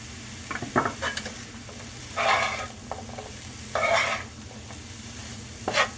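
Seasoned ground beef being stirred in a pot, with repeated scraping strokes of a utensil over a steady low sizzle, close and fairly loud, with no talking.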